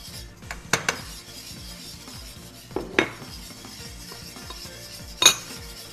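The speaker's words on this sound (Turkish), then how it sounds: "Karıştırma devam ediyoruz." A milk pudding mixture being stirred in a pot for a jelly-topped fruit pudding, with soft scraping and a few sharp clinks of the utensil against the metal rim, fairly quiet with no talk.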